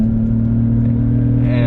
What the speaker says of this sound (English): so that way you guys can hear what the drone sounds like when I drive